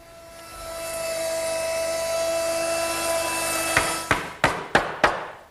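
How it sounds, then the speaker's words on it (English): A router fitted with a 1/2-inch round-over bit shapes the edge of a wooden top rail for a garden bench, running as a steady high whine, then cutting off into several short, sharp bursts, close and loud. "the only thing I need to do that is a 1/2-inch round over bit set up in my router"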